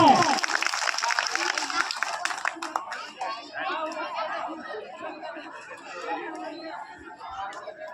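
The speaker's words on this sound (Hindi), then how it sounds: "जोरदार तालियों से स्वागत किया जाए" Audience at an Indian Independence Day school function welcoming guests with clapping, loud at first and then thinning into crowd chatter and some laughter, with voices talking over the fading applause.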